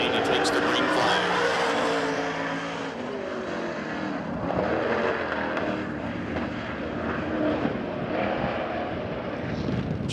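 Crate late model race car at Hagerstown Speedway with a troubled engine, a loud roaring, uneven engine note sweeping through the turns over continuous track noise, with an announcer talking over it.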